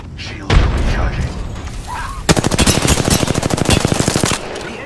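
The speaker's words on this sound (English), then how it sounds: "The enemies are shooting at me." Rapid automatic enemy gunfire in the Apex Legends video game, a dense rattling burst of many shots in quick succession, loud and close, preceded by game sounds and a brief voice.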